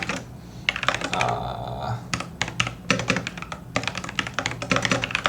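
Rapid typing on a computer keyboard while writing code, with irregular bursts of close, crisp key clicks and short pauses between runs of keystrokes.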